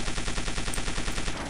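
Rapid automatic gunfire in the video game Chaser, a steady burst of evenly spaced shots firing nonstop at close range.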